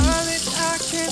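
Tap water runs steadily into refillable drinking bottles in a home kitchen, a continuous close splashing hiss with a faint hum underneath and no talking.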